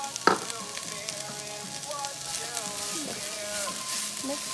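Onions and garlic sizzle steadily in a pan, a close, continuous crackle with a sharp clatter near the start. Faint tonal sounds run underneath.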